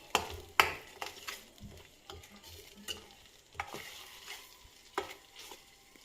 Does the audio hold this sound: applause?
no